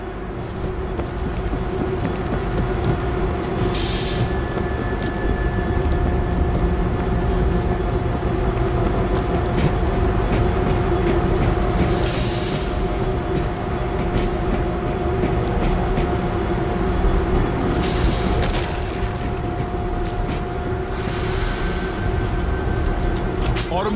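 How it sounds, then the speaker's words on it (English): A train rolling in the World War Z video game, New York level, a steady loud rumble with clattering and metallic squeals running throughout, game effects over it. "Gonna roll the train back before we punch it through."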